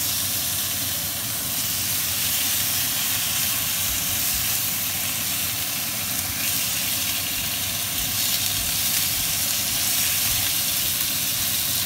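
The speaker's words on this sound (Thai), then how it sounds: "พอมันหอมแล้วเราจะใส่เบคอนลงไป" Bacon sizzles loudly in a pan with roasted spices, a dense, steady, close frying hiss that holds unbroken throughout with no talk over it.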